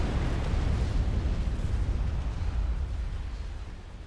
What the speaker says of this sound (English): So satisfying watching those nuclear explosions.